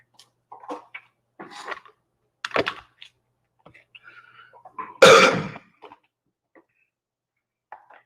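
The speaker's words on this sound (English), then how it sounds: "this is not a coronavirus cough" One sharp, hoarse cough bursts out near the end of a quiet stretch, preceded by a few soft scattered throat and mouth noises.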